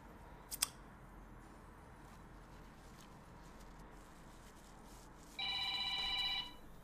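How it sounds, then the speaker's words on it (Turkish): A telephone rings once in a short, bright, tonal electronic burst lasting about a second near the end, faint against a quiet room hum, with a tiny click heard earlier. "şu an telefon çalma sırası mı?"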